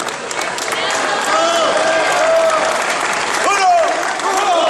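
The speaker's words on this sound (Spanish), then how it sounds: "Un aplauso también para la rondalla sanmarqueña." An audience claps loudly and steadily for a rondalla performance at an event in San Marcos, sustained applause with a speaker's voice carrying over it.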